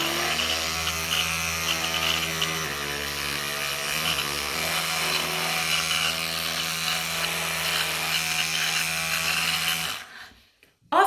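An electric toothbrush buzzing steadily while brushing teeth, a close, continuous motor whine with slight pitch shifts as pressure changes, cutting off abruptly near the end.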